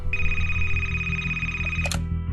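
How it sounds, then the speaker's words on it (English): A telephone rings for an incoming call with a sustained electronic bell tone over a low rhythmic hum, close and clear, ending in a short sharp click. "Nancy gets this astounding phone call."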